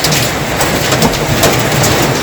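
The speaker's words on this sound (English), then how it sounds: "hail happening now" Hail falls outside a Toyota Tarago, Previa or Estima during dashboard work near an open door, a dense, steady rattling hiss of impacts that stays loud and unbroken throughout.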